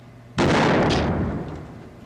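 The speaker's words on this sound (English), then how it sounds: "Shotgun!" A shotgun fires once in a western gunfight scene: a single loud, close blast that rolls off into a fading echo over about two seconds.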